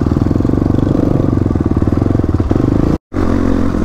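A motorcycle on an off-road ride drones loud and close with a steady, rapidly pulsing engine note, cutting out briefly near the end before resuming.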